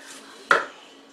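A single sharp knife chop cuts through a tomato onto a board, one close crisp knock that fades quickly.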